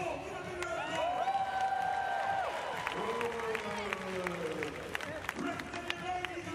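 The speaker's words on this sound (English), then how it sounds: "Give them a big round of applause." Crowd at a 2012 London Paralympic wheelchair basketball game cheering and clapping for players, a lively mix of applause and whoops behind overlapping voices, with whistle-like tones and scattered sharp knocks.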